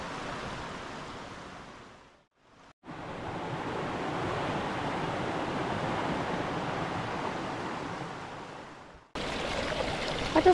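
The River Esk runs as a clear stream through a deep ravine in Eskdale in the Lake District, giving a steady, close rush of flowing water that drops out briefly and cuts off sharply near the end.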